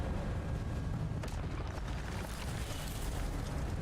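Incendio fire spell cast in Hogwarts Legacy on PS5, a steady roaring, rumbling whoosh of flame that stays loud and continuous for a few seconds, with a couple of faint crackles and no voices.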